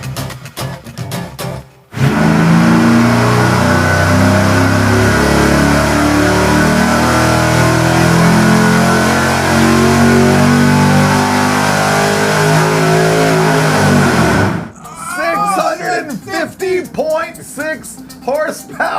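Supercharged V8 on an engine dyno, run with a smaller pulley spinning the blower faster, roars loud and steady through a sustained wide-open pull, then cuts off abruptly into a quieter stretch with talk.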